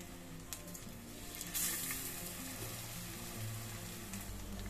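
Paneer pieces frying in a little oil in a kadai, giving a steady close sizzle and crackle with a brief brighter burst of spitting partway through, under a continuous low background hum and no voices.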